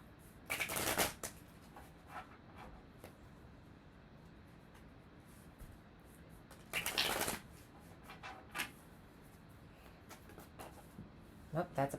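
Quiet room with several brief bursts of tarot cards being shuffled, riffling crisply in short clusters separated by pauses.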